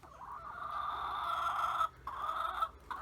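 Close, continuous hen vocalizing, a drawn-out clucking call broken by two short pauses, moderately loud with a quiet background.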